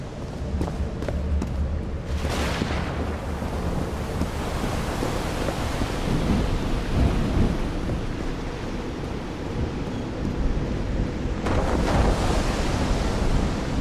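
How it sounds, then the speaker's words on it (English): A thunderstorm in the video game Call of the Sea: a constant roar of wind and rain-like noise, with two heavier broadband bursts, one early and one near the end, over a low rumbling bed. "I'm quite scared of storms."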